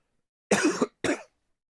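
Two short, sharp coughs close to the microphone, a brief pause between them, with silence before and after.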